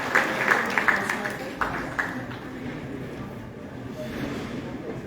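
An audience at a world peace award function applauds loudly; scattered clapping swells briefly then fades into a softer, diffuse room murmur.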